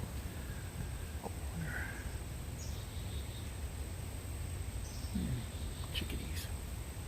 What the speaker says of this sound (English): I hear chickadees. I hear woodpeckers.